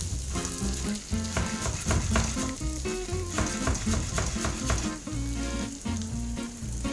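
Eggs stirred in a hot frying pan with chopped red onion, sizzling steadily and continuously under background music.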